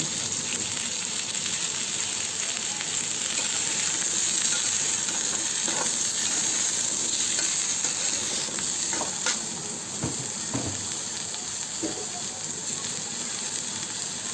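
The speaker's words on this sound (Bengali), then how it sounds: "আমি একই কড়াইতে আরেকটু তেল দিয়ে আলুগুলো ভালো করে ভেজে নেব" Potatoes fry in oil in a wok after pointed gourd was fried in the same pan, producing a continuous close sizzle with occasional clinks and scrapes of stirring.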